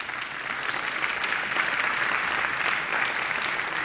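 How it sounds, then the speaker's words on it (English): Conference audience applauding to welcome a speaker at a talk on hacking PlayStation Blu-ray drives, a dense steady wash of clapping from a large crowd lasting the full few seconds. "Please welcome, with a very warm applause, Boris."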